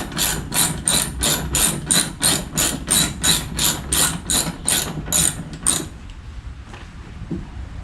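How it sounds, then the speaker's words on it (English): Rapid, evenly spaced clicking of a ratchet wrench loosening bolts on a custom overhead console, loud and close for about six seconds, then stopping and giving way to quieter handling noise. "So I'm going to go ahead and pull these bolts here on each side."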